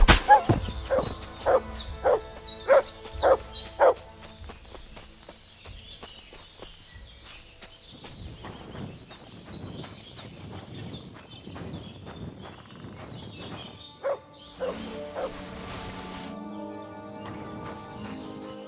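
Mutt the dog barking in Kingdom Come: Deliverance II, a series of about six sharp, evenly spaced barks at the start, followed by quieter footsteps and ambient sounds.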